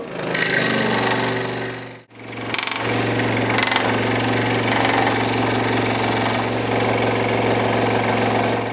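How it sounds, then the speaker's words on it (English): A scroll saw cuts through wood for a whirligig box with a steady, buzzing mechanical rattle. It stops briefly for a moment, then runs again continuously at close range. "I'm back over at the scroll saw where I will be cutting out this box for the Whirligig to go."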